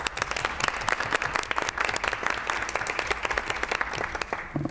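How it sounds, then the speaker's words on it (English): Applause from an audience at a school district budget workshop, a dense steady patter of many hands clapping that holds for several seconds before thinning slightly at the end. "just let's give them a round of applause"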